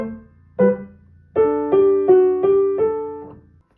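Bach's Minuet in G on piano, the first two notes slurred, followed by a run of separate clear notes over a sustained low bass, played solo and fairly close with no talking.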